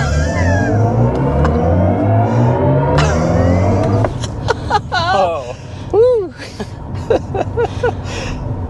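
A 2024 BMW i7 M70 electric sedan accelerating hard, a rising electric whine and synthetic drive tone swelling up through the cabin, followed by excited voices talking inside the car.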